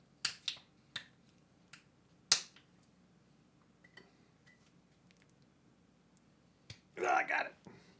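Wax seal being picked and peeled off a beer bottle: scattered sharp clicks and cracks, close and fairly quiet, with a short burst of crinkling scraping near the end.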